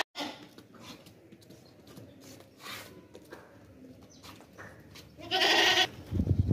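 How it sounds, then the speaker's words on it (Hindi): A desi Makhi Cheeni dairy goat gives a single loud, close bleat near the end, after a stretch of quieter farmyard background noise. "देसी मक्खी चीनी बकरी है भाई"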